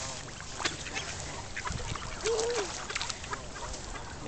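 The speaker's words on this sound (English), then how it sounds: "No, that geese wants Carlos's cookie." A single short honk-like goose call rises out of outdoor background noise, with faint splashing and general park ambience around it.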